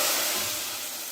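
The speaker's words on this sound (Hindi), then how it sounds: "इसके ऊपर हमने ये बस तड़का जो है इसका डाल देना है" Hot tadka tempering is poured over cooked masoor dal, giving a loud, close, broad sizzling hiss that fades slightly over about a second.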